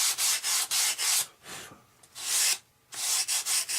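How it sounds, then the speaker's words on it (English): Sandpaper rubbing paint off a part of an RC F-86 model airplane, quick back-and-forth strokes in rhythmic bursts with short pauses, close and fairly loud. "Just sand the paint off, you guys."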